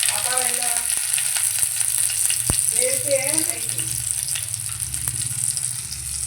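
Dried red chillies frying in bubbling sesame oil give a steady, close sizzle with crackling bursts, while a voice speaks over the cooking throughout.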